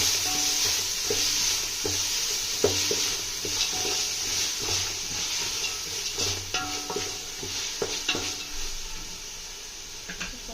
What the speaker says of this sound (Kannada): ಫ್ರೈ ಆಗ್ತಾ ಇದೆ.